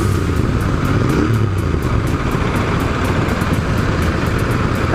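A Royal Enfield Continental GT 650 twin-cylinder cafe racer drones along at steady speed, its exhaust a low continuous rumble mixed with wind rush, loud and close throughout.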